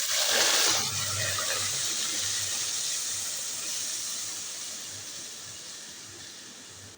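Onion paste hitting a hot pan for a Kabuli chana dish, a broad steady sizzling hiss that swells at first and then holds fairly level, fading slightly over several seconds.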